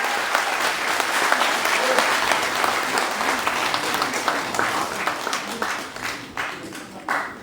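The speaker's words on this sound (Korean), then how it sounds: "큰 박수로 맞아주시기 바랍니다" Audience applause fills a hall at a Korean public event as guests are introduced, steady dense clapping that holds strong throughout and thins slightly toward the end.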